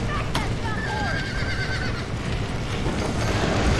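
A horse in the Western video game Red Dead Redemption whinnies and clip-clops amid busy game ambience, with shouted voices over the animal sounds and hooves throughout the short stretch.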